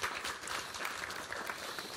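An audience at a Pentecost church service applauding, a short steady burst of dense clapping from many hands, moderately close, with no talk over it.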